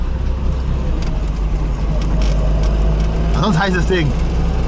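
A Trabant's engine drones steadily with a low rumble while the car is driving, heard from inside the cabin beneath a person talking.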